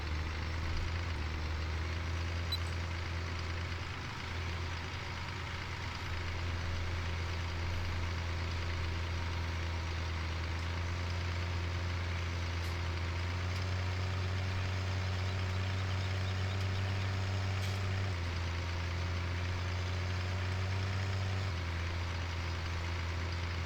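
A heavy truck engine in the logging game Woodshire drones steadily at low pitch, its tone rising as the revs climb and then dropping back, continuous and fairly quiet with no talking.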